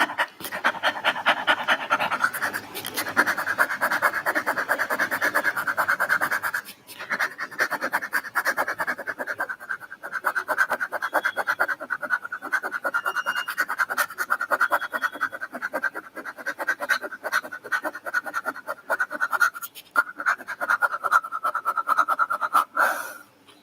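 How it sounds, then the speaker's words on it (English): Rapid, forceful mouth breathing of a pranayama kriya exercise, continuous quick in-and-out breaths close and loud, with a short pause near seven seconds before the rhythm resumes and carries on steadily. "repeat inhalation, repeat exhalation through your mouth"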